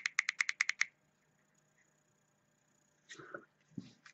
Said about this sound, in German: 5-mal klicken ist auch wieder ausschalten